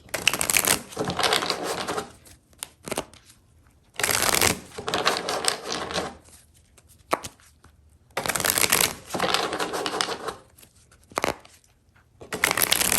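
Tarot cards are riffle-shuffled in repeated bursts of rapid crisp flutter, close up, with short quiet pauses between each shuffle.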